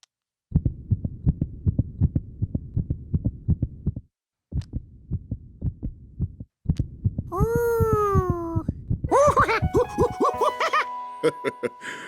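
Cartoon scene: rapid, muffled heartbeat thumps through a stethoscope, pausing briefly, then continuing while a rising, whining tone and squeaky noises build over it.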